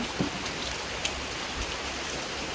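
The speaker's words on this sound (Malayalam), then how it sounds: "പുറത്ത് നല്ല മഴയാണ്." Sudden heavy rain falling outside: a soft, steady hiss of rain on surfaces with a few faint drop taps, heard from indoors.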